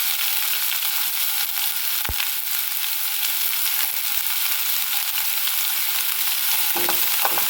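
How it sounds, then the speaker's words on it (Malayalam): Capsicum and onion frying in a pan for cauliflower fried rice, a steady loud sizzle throughout with occasional stirring scrapes, close and without talk. "നമ്മുടെ ക്യാപ്സിക്കം, സവോള വേവിച്ച് ചെയ്ത് വെച്ചേക്കുന്നത്"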